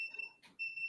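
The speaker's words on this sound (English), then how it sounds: "it's an air quality sensor" An air quality sensor alarm sounds two sustained high electronic tones, cut by a short gap in the middle, clear and close in a quiet room.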